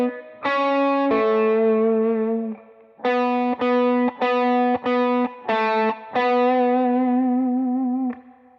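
Electric guitar plays a slow Halloween lick of clean, sustained single notes, some held long and others picked in quick repeated bursts, close and without talking.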